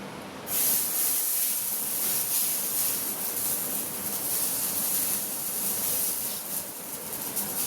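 Dosa batter sizzling on a hot pan in a home kitchen makes a loud, continuous hiss that starts abruptly and holds steady throughout, close and alone.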